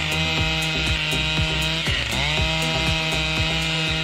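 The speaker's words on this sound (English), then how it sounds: "Thanks to the technology and power of the chainsaw, the rain tree was taken down promptly" A chainsaw cuts through a rain tree, its engine roaring loud and close with a steady buzzing drone, the pitch dipping briefly as the chain bites deeper into the wood.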